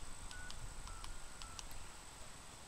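Faint DTMF keypad tones sound on a SOHO or Panasonic PABX as extension 838 is dialed, a few short separate beeps over a steady line hum, with no speech.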